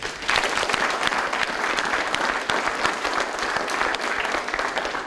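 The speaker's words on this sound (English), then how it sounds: "Give these guys a round of applause." An audience at a military police battalion spur ride ceremony gives a full, dense round of applause that holds steady and fairly loud throughout, with no voices over it.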